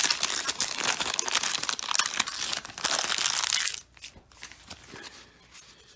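A vintage 1980s wax pack of baseball cards is torn open, its crinkly paper wrapper loudly crumpling and ripping up close for several seconds before quieter rustling of the cards follows, with no talking.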